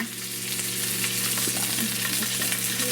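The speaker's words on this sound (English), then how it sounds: "And you can hear it cooking." Food sizzles and crackles steadily in a hot pan, a close, continuous frying hiss with small pops and no talking.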